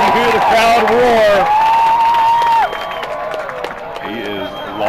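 Spectators at a US Quidditch Cup final between University of Texas and Lone Star QC roar and cheer loudly at close range, with whistling and shouts over the crowd noise before it settles into a softer hubbub.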